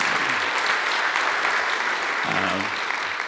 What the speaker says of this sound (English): that was kind of a tepid applause for us coming back, wasn't it?